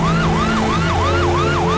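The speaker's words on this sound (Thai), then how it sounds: "เมื่อเราพร้อมใจกันหลบทางให้รถพยาบาล" An ambulance siren wails in a steady rising-and-falling cycle, loud and close, repeating about four times with a low engine rumble underneath.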